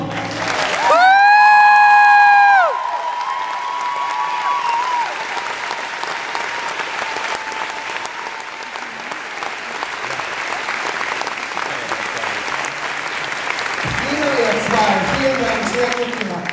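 An audience applauds at a Tanz der Vampire open-day stage performance after a musical scene. Dense, steady clapping continues throughout, with a sung note and a brief voice heard over the start.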